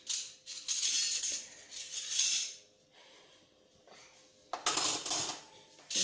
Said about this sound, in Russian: Поэтому тихонько с посудомойки все достаем.